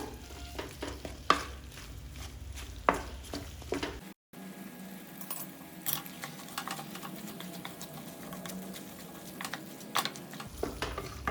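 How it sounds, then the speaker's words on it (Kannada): Bamboo shoot pickle mixture with a little turmeric stirs and fries in oil over a low flame: a steady close sizzle with scraping stir strokes and a few sharper clatters, no talk. "ನೀರಂಶ ಹೋಗೋವರೆಗೂ ಚೆನ್ನಾಗಿ ಫ್ರೈ ಮಾಡ್ಕೊಳ್ಬೇಕು ಲೋ ಫ್ಲೇಮಲ್ಲಿ ಇಟ್ಕೊಂಡು"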